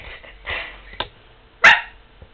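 A person imitates a dog with a voice, making a few short, close bark-like yaps, and the last bark is the loudest and sharpest.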